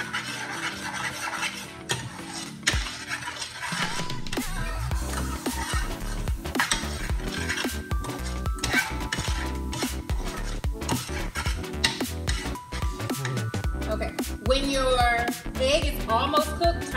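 A utensil scrapes and chops cooking egg in a pan for fried rice, with repeated clatter and scraping strokes against the metal, close and continuous, mixed with a faint sizzle.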